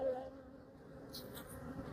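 Honey bees buzz around an open hive while frames are inspected, a soft, steady hum close by with a few slightly louder passes near the end.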